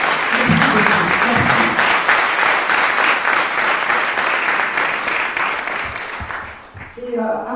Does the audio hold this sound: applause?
yes